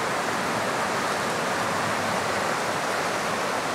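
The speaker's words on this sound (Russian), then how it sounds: "А тут горная река." A littered mountain river near a highway in the Caucasus foothills, rushing in a loud, steady broadband roar of flowing water that fills the scene without pause or voices.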